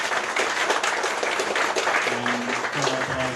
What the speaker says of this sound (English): so a round of applause for Paul.